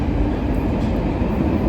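A London Underground Northern line train runs through the tunnel near Highgate towards High Barnet, a loud, steady rumbling roar with constant rail noise and no talk.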